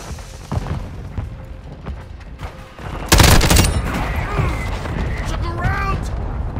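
Video game combat with an air strike: a sudden loud broadband blast followed by a sustained rumble and scattered gunfire, with radio-style voice chatter over the top.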